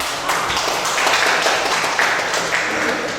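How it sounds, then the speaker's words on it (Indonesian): Brief burst of clapping from a classroom audience for a group that has just presented, dense and steady over about three seconds. "Tepuk tangan untuk kelompok."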